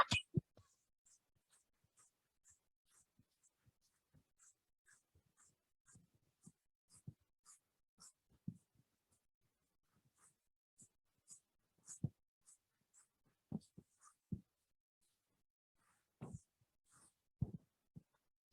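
Chalk or marker strokes on a board during a structural engineering lecture, a long series of soft, scattered taps and scratches at a slow irregular pace, with louder clustered strokes toward the end.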